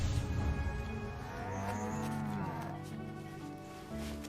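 Cows in a video game give a long, drawn-out moo with rising and falling pitch, loud and clear over a low background rumble.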